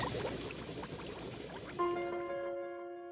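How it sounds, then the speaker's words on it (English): Liquid methane poured in a steady, rushing stream, a broad hiss that gives way near the end to a faint ringing, resonant tone as the pour stops. "This is it. Liquid methane."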